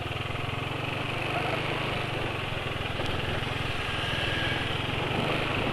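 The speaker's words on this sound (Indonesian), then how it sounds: "Ya, jadi seperti ini ya suara motor penulis ya." Motorcycle engine running on Esso 4T oil, a steady low droning rumble held close and constant throughout, with a faint hiss of outdoor noise on a quiet residential street.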